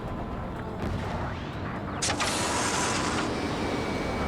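Explosions hit a laser cannon during an Ace Combat 7 air battle, a dense rumbling roar with a sharp blast partway through, over constant engine and wind noise.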